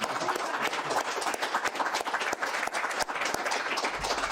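Applause from a church congregation, moderately loud, with individual claps standing out in an uneven patter over a few seconds.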